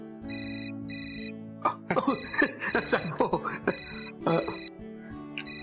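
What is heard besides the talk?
phone ringtone ringing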